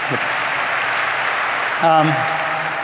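A keynote audience at INBOUND 2014 applauds in a steady, dense patter, while a voice briefly speaks over it near the end.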